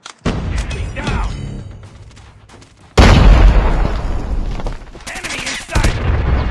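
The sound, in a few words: grenade explosion and gunfire in video game Call of Duty Mobile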